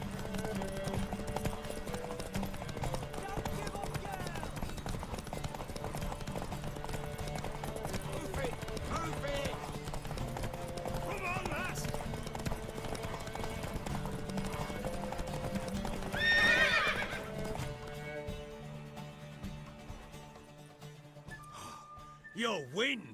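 Horse hooves clip-clopping steadily in Witcher 3, a rhythmic trot under spoken dialogue, with a brief whinny-like cry near the end before the sound drops away.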